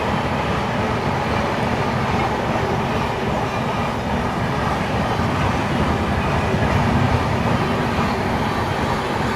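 An express train, the Jharkhand Swarna Jayanti Express, rushes past at high speed, producing a loud, continuous roar with rumbling wheels and clattering carriages that holds steady from start to finish.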